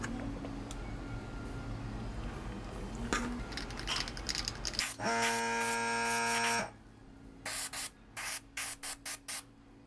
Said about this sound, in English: Next, I'm going to do a very light coat of green shimmer effect